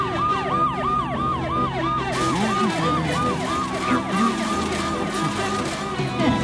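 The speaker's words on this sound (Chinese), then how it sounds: "消防车出动救援" A cartoon fire engine's siren from a children's animated rescue show wails over and over in quick rising and falling sweeps. Other bright tones join in partway through, and the siren keeps going loudly throughout.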